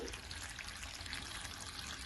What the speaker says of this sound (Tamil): நான் வெது வெதுப்பான சுடு தண்ணி எடுத்திருக்கிறேன் இந்த நெத்தலியை மூடுற அளவுக்கு ஊற்றி